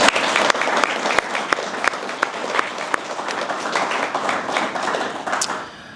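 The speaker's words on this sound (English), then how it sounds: "I want to offer them a great big round of applause for all their hard" An audience at an amateur radio club meeting applauds in a steady burst of clapping lasting several seconds, with a few sharper individual claps standing out before it tapers off.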